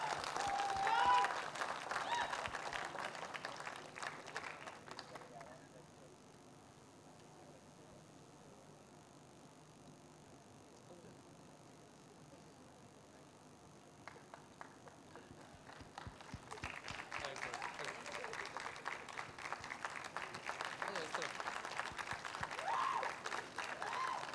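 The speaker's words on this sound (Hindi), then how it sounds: "जोरदार तालियां हो जाए फॉर सिद्धार्थ" Audience applause at the launch event for Life OK's new show Mahakumbh, broad crackling clapping that fades to a quieter stretch mid-way before swelling again, loud and sustained with crowd noise.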